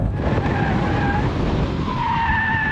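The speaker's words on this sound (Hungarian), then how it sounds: "Mozog a hátulja a kocsinak." A VW Golf R skids with its rear sliding, a loud continuous tire squeal with wavering tones held over a roaring engine the whole time, close and with no talk.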